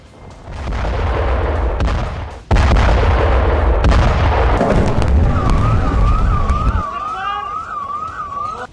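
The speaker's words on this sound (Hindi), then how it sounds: "बटन दबाते ही जोरदार धमाका होता है।" An air strike explosion on a concrete building in South Gaza: loud, rumbling blasts roar in quick succession, then a warbling siren rises over the fading noise.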